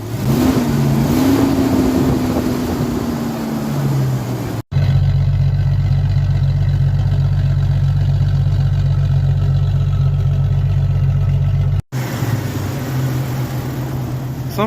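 A Jeep Cherokee engine runs rough just after a head gasket repair, a loud close idle with an uneven misfiring chug and puffing pulses that continue steadily, broken by two brief cuts.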